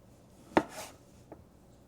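A knife chops through a block of tempeh into short pieces, giving one sharp cut followed by a softer, fainter second cut, close and alone.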